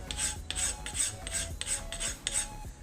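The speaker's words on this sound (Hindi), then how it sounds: "रेती से टेपर में कर देंगे, यानी कि हाथ में लगना नहीं चाहिए ऐसे।" A hand file rasps across a metal part to taper its edge, producing a faint run of about six even, rhythmic strokes with nothing else heard.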